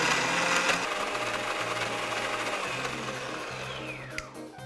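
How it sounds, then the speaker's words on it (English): A kitchen blender whirs steadily as it purees food with a splash of vinegar, its motor droning close and fairly quiet for several seconds before it winds down with a falling pitch at the end. "Now we blend."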